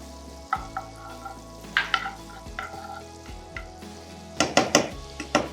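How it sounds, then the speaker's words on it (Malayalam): Butter sizzles in a hot pan for garlic squid, a soft crackling hiss over a low sustained hum, with scattered spatters and utensil knocks that grow louder and denser toward the end. "പാൻ ചൂടായ ശേഷം കുറച്ച് ബട്ടർ നമുക്ക് ഇതിലോട്ട് ആഡ് ചെയ്യാം"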